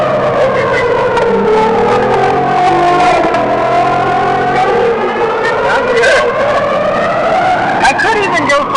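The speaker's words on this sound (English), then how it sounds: "I love that exhaust." A luxury sports sedan's engine revs hard and then eases off, the exhaust growling and rising and falling in pitch, loud and close, with a voice speaking over it.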